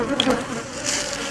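Honey bees buzz loudly and close during removal of a large hive built into a stucco wall column, a dense continuous hum with individual bees whizzing past.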